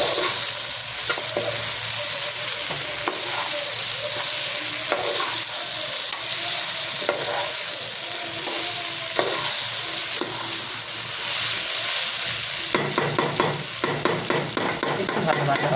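Ingredients for sweet basanti pulao fry on low heat in a pan, with a steady close sizzle under repeated scraping stirs that turn quicker and more rhythmic near the end.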